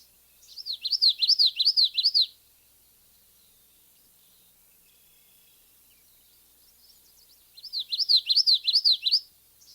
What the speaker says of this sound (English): So a couple of those witchetty,